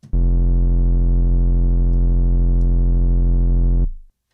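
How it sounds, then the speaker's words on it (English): A loud, deep synth bass note from a sampler in Logic, for a NY drill beat, holds steadily for about four seconds with a rhythmic wobble, then cuts off abruptly. "today we're gonna learn how to make this wobbling bass sound in Logic"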